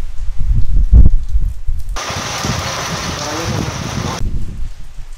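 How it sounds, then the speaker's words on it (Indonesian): Steady broadband hiss of heavy rain on roof tiles begins abruptly partway through, a dense even patter that stops suddenly near the end, after some low rumbling handling noise. "Ini hujan beneran."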